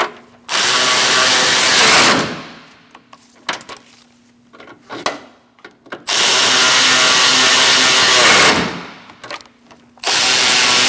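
Power tool driving in AC condenser bolts on a 2002-2006 Toyota Camry 2.4, with three loud sustained whirring bursts separated by clanks and handling noises, close by.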